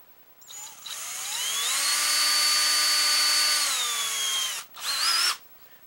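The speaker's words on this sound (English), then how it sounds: "chuck in my 16th inch drill bit, and I'm just going to do this freehand" A power drill with a 1/16-inch bit bores freehand into a bow's foregrip. The whine rises to a loud, steady pitch, winds down, then gives one short second burst after a brief pause.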